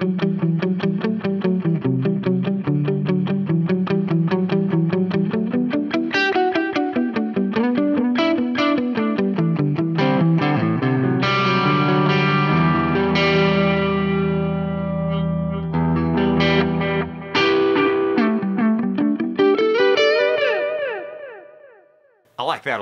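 Electric guitar played through a Boss Katana-Head MkII amp on its tape echo delay setting, a continuous distorted melodic line with repeating echoes trailing each note, loud and steady before fading at the end.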